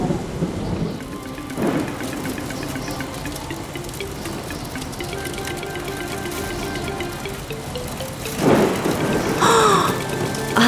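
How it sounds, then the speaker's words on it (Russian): A cartoon thunderstorm with lightning: steady rain with rolls and cracks of thunder, one near the start and a louder burst late on, set under light tonal music. "Начинается гроза. В небе молнии."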